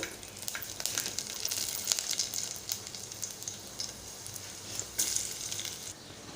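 Garlic sizzles in hot oil with curry leaves and a pinch of asafoetida, a close, steady crackling hiss with brief brighter spatters, loud and continuous throughout.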